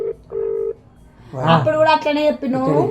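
A few short electronic beeps of a phone number being dialed, followed by someone speaking close by.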